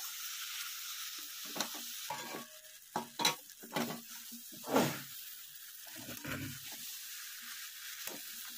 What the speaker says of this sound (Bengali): মশলাটা কষানো হয়ে গেছে, মানে আদা রসুনের পেস্টটা ভাজা হয়ে গেছে